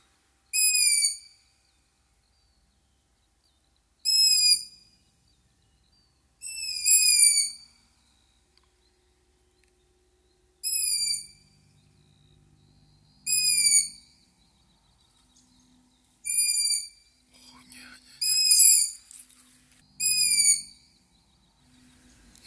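In an old forest, tawny owls repeat sharp, high-pitched calls about eight times at irregular intervals of two to three seconds, each call distinct and fairly loud over a quiet background.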